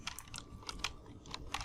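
Soft, quick keystrokes on a computer keyboard, a short burst of light irregular clicks heard close up in a quiet room.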